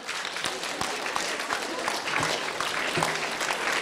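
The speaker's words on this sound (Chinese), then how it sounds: "我们大家可以给他们点鼓励的掌声。" An audience at a church gathering claps steadily in encouragement, a dense continuous wash of applause across the whole clip, fairly loud and even.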